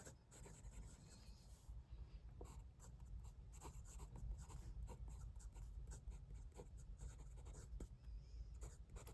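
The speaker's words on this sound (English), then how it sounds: "So for this writing sample, I have the Titan fountain pen from 5040, and this is inked with Waterman Serenity Blue." Fountain pen with a medium nib, a Titan from 5040 inked with Waterman Serenity Blue, writing on Moleskine notebook paper, giving soft, steady scratching strokes close up with faint background hum.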